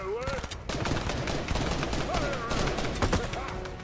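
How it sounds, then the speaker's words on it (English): Tommy gun in a video game firing rapid continuous bursts, loud and close, with a chattering rattle running the full length and game sounds mixed in. "I hear my Tommy gun."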